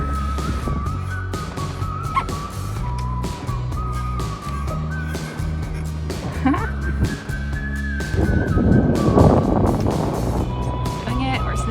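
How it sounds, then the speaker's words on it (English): Wind blowing steadily across open water during a solo sail on a small sailboat, a continuous broadband rush that swells louder near the end, with a voice talking over it throughout. "There's a little bit more wind out here"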